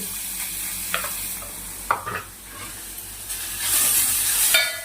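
Grated carrot frying in melted ghee for carrot payasa, a steady sizzle with a few sharp scraping stirs of the spoon against the pan, close and clear with no voices.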